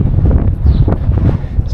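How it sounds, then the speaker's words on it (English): Strong gusty wind roars and buffets the microphone outdoors in Portugal, a continuous low rumble with no other clear sounds. "It's very windy here."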